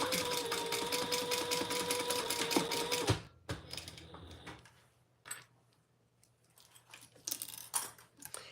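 A sewing machine stitches the ends of strap connectors in a dense, close whirring run that stops abruptly, followed by scattered clicks and handling sounds, with faint voices.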